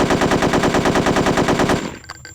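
Rapid automatic gunfire from a weapon in Hitman: Codename 47, a loud continuous burst of evenly spaced shots that cuts off near the end, followed by a few faint clicks.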